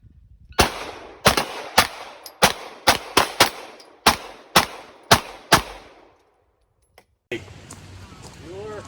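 Glock G17 and G47 pistols fire at a GSSF shooting match: about a dozen sharp, loud shots in quick irregular succession over several seconds, then a brief silence before faint voices and range noise return.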